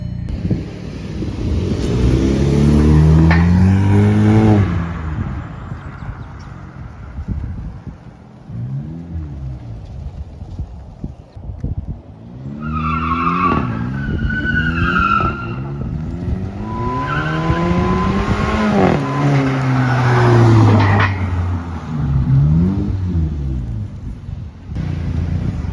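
A car with a DIY cold air intake revs hard, heard from inside with the window down: loud rising and falling engine sweeps with intake roar, several pulls separated by a brief quieter idle stretch.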